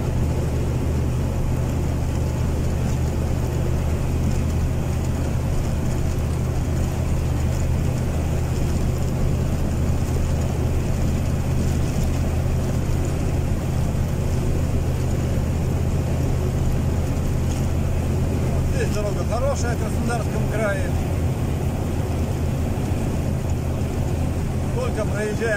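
A car travelling along a bad country road toward a farmstead in Russia, a steady low engine and road rumble throughout with faint background noise.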